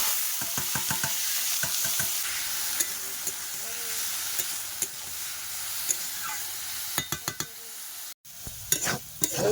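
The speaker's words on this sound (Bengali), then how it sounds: "একটু ওলকপি ভাজবো" Kohlrabi stir-frying in white oil in a wok, a steady close sizzle with scraping stirs and sharp clicks of a utensil against the pan, pausing briefly near the end before resuming.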